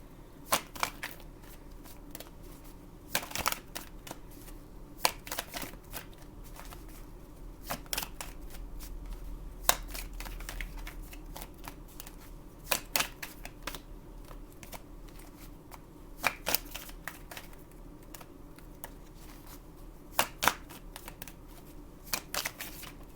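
Tarot cards being shuffled by hand in repeated short riffling bursts of crisp flutter and snapping, spaced every few seconds, close and fairly quiet, with no talking.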